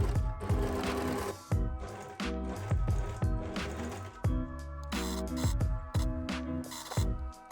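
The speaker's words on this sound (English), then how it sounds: "sew the entire perimeter of the pockets together on an overlocker" An overlocker sews around fabric pocket edges in quick, uneven bursts of stitching, with rhythmic mechanical thumps close by.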